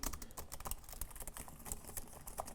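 Typing on a MacBook Neo laptop keyboard, a quick, steady patter of soft key clicks, close but quiet, with no talking.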